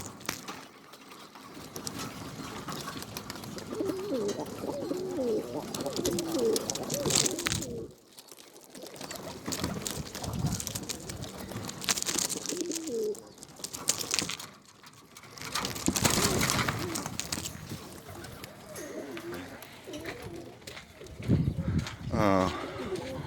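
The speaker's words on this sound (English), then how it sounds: "I'll let y'all check out the birds while I go" Birmingham Roller pigeons coo steadily in a loft, with wing rustles and scuffing nearby and occasional murmured voices under the birds.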